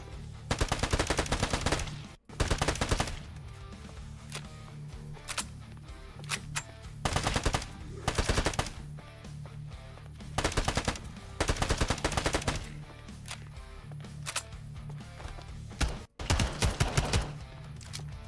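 A shotgun turret in a zombie graveyard video game fires repeated rapid bursts of loud gunfire, separated by brief lulls, with no talk over the shots.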